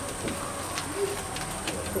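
Pigeons coo softly in a loft, low repeated calls under a steady background hiss, with no talking.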